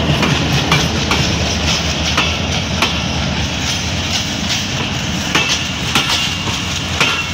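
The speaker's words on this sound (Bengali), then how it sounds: "এখান থেকে ট্রেন আসতেছে, ওখান থেকে ট্রেন যেতেছে।" A train rolls past close by, a loud continuous rumble with steady clickety-clack of wheels over rail joints throughout, heavy and unbroken with no voices.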